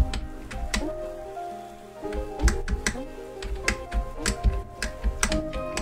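A noisy computer keyboard is typed on in quick, irregular bursts of sharp clicking keystrokes, close and loud, with no speech.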